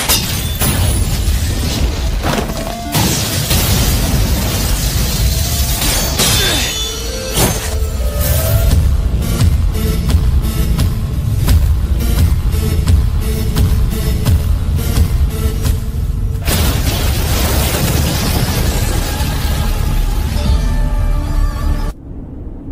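An anime explosion erupts as a loud, sustained wash of roaring blast and crackling debris, punctuated by sharp bursts and impacts, holding at full intensity for about twenty seconds before cutting off abruptly.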